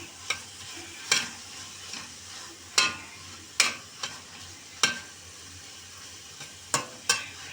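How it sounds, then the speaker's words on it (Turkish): Spinach roots sautéing with onion in a pan, with a steady sizzle under about ten sharp, irregular spatula scrapes and stirs against the pan, close and fairly loud. "4-5 dakika kavuracağız ıspanak köklerimizi"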